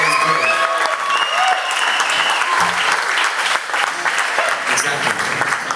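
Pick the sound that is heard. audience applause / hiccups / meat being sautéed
audience applause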